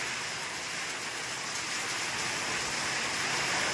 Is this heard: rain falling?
yes